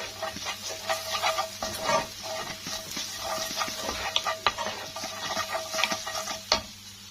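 Three cloves of garlic fry with merguez sausage in a pan, giving a light, continuous sizzle broken by frequent close clicks and scrapes of stirring.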